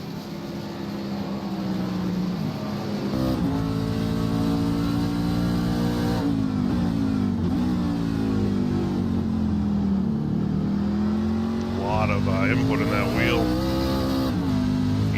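A racing truck engine in the NASR racing game at Watkins Glen roars loudly, shifting pitch as it slows through a turn and accelerates out, with a commentator talking over it.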